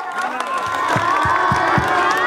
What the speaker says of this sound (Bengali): সবাই হাত জোর করো, করতালি দাও।